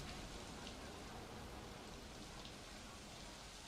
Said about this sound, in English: look at the rain build up on that.